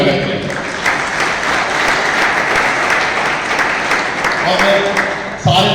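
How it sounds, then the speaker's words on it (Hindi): Loud, sustained applause from an audience welcoming participants at a Ram Navami temple committee gathering, a dense steady clapping that fills the whole stretch with a voice faintly mixed in. "मैं सारे लोगों से चाहूंगा कि सभी भाइयों के लिए जोरदार तालियों से स्वागत करें।"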